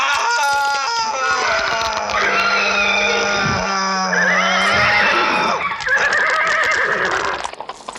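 Horses neigh and whinny loudly and almost continuously, shrill, quavering calls overlapping one another close by for several seconds.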